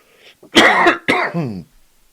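A person clears their throat and gives a couple of harsh, dry coughs in quick succession, close and loud, then quiet.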